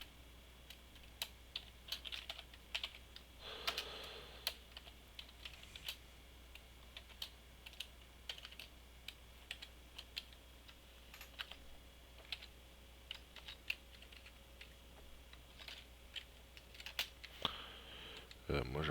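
Typing on a computer keyboard, with sparse, irregular key clicks spread across the whole stretch, faint and close, over a low steady background hum.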